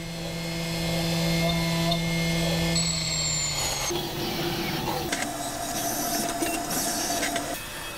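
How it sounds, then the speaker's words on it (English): A CNC mill cuts a GoPro case with an end mill, a loud, continuous whine of steady tones that shift pitch as the cutter changes passes, with a brief high squeal partway through. "as little material as possible for the next smaller tool to come in and cut the corners out"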